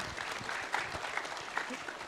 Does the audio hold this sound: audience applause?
yes